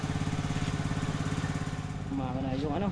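A small misfiring engine sputters close by with a rapid, uneven putter, and a voice briefly speaks over it toward the end.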